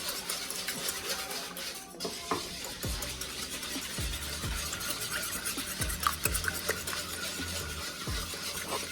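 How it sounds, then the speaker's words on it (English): Two eggs whisked in a bowl, with quick repeated stirring taps and clinks in an irregular rhythm, close and moderately loud, no voices. "Whisk 2 eggs."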